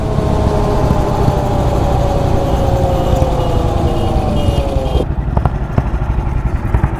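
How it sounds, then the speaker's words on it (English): An old motorcycle rides along a highway in Thailand, its engine a steady loud drone with a gradually falling whine, heard up close over constant road and wind rush for several seconds. "Just catching up with this old bike. I've no idea what it is, but it's making a right old noise."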